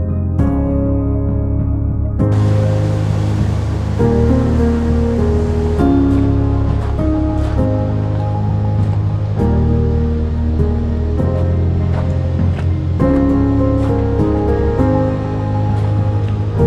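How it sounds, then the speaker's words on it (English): Ocean waves wash and break continuously along the shore at Moss Beach on Monterey's 17 Mile Drive, a loud, steady surf with repeated surges and no voices. "And this is Moss Beach."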